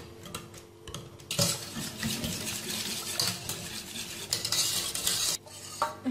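A spoon stirs a hot chocolate mirror glaze mixture with dissolving gelatin in a pan, making repeated scraping and clinking strokes close by in an uneven rhythm, with soft sizzling between the strokes.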